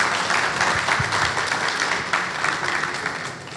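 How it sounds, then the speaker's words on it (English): Audience applause at a business opportunity forum, a steady wash of many hands clapping that fills the whole stretch at an even, fairly loud level. "Let's give Greg a round of applause"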